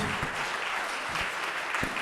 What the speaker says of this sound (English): Could we give our panelists a round of applause?